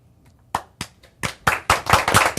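Studio audience at a live soul music radio show breaking into scattered claps that quickly build into fuller applause, close and loud, with no talking.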